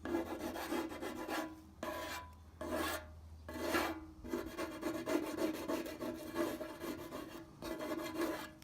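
Repeated rasping scrapes, rhythmic strokes close up, as paint is scraped off the fuel tank of a 2006 Triumph Bonneville motorcycle, with brief pauses between bursts.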